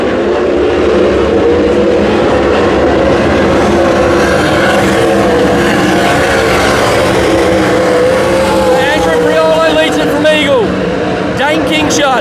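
Sprint cars race around a speedway track, their engines roaring continuously and loudly with revving and passing sweeps, under excited race commentary.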